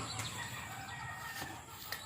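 Chickens kept as egg layers in a Philippine farm setting, heard as steady faint clucking and scattered brief calls, with one sharper crow-like cry near the end.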